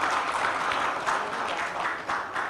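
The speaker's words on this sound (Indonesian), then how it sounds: "Tepuk tangan untuk Bapak Jenderal." An award ceremony crowd applauding for a general, steady dense clapping from many hands filling the hall at a constant level for the whole stretch.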